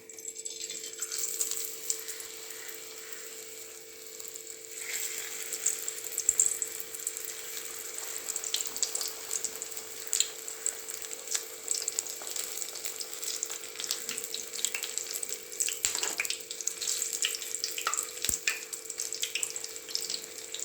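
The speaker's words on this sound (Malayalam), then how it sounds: "ഇനി ഇതെല്ലാം നമുക്ക് ഡീപ്പ് ഫ്രൈ ചെയ്തെടുക്കാം." Egg samosas deep frying in hot oil, giving a steady, dense sizzle and crackle that runs the whole time with no voices.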